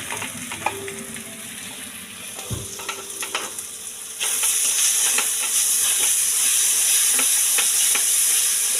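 Onion sizzling in hot oil with ginger, green chili, garlic and pepper paste for a chicken curry, a steady close fry with stirring clinks early, then a sudden louder, brighter hiss as more goes into the pan.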